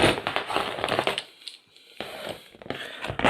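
Worn old secateurs with blades spread apart crunch and crush against a plant stem without cutting through, two bursts of crackling squeezing separated by a short quiet gap.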